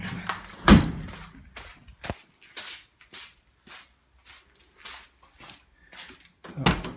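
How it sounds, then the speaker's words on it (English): Door of a 1960 Mercedes-Benz 180db closing with a solid thud, followed by a sharp knock and scattered lighter knocks and rattles, then a second firm thud near the end. "And it closes like a Mercedes door."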